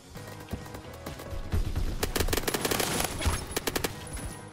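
Automatic gunfire in the shooter game Phantom Forces, a fast rattling run of close, loud shots in quick bursts over game background noise.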